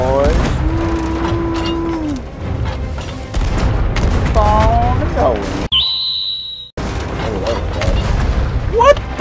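Ship cannons in the Sea of Thieves game boom in a few heavy blasts amid clattering game noise and a brief whistle, with a voice talking over parts.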